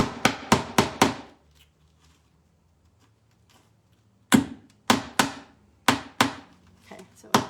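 Hammer blows driving a nail into a wooden dresser, struck in two bursts of four or five sharp, close knocks separated by a quiet pause.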